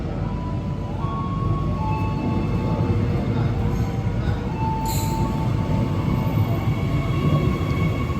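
A train pulls into Pulau Air railway station with a loud, continuous rumble of wheels on rails and thin metallic squeals above it, close to the listener.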